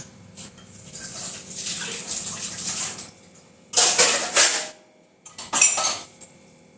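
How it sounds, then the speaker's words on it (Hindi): A plate being washed in a home kitchen sink: running water splashes and clatters of dishware come in a long stretch, then two shorter bursts, fairly close with no talking. "जो ये कूड़ा है वो इसमें डाल देती हूँ और डस्टबिन में मैं इसको डाल दूँगी और प्लेट को धो के"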